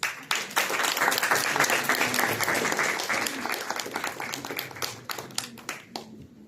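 Applause fills a hall at a nutrition and emotional health congress, a full, even crowd of clapping hands that gradually tapers into a few scattered final claps.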